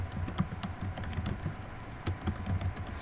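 Rapid typing on a computer keyboard, close and quiet, with irregular clusters of key clicks and a few sharper taps, with no talking.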